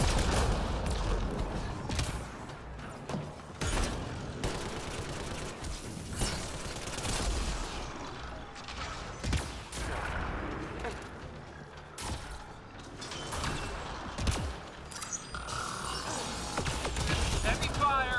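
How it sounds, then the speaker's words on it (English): Heavy gunfire in Apex Legends comes as loud rapid bursts and sharp single shots, with mechanical clicks and reload rattles between them, continuing across the whole stretch while voices talk at times. "Heavy fire."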